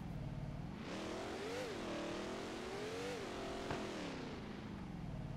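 Bugatti Divo hypercar in the video game Car Simulator 2, its engine droning steadily with rising and falling revs as it accelerates and eases off, heard alone and fairly faint.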